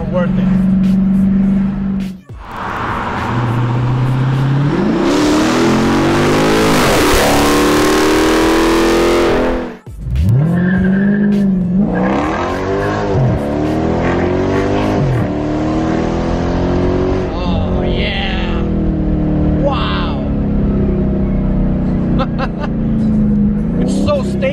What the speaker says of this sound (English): The exhaust alone makes this car worth it.